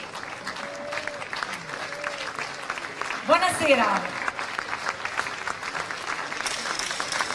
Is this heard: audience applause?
yes